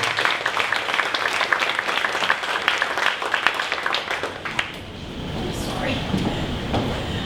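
An audience at a 1 Million Cups Dallas startup event gives a round of applause, dense clapping for about five seconds that thins and fades into room murmur and voices.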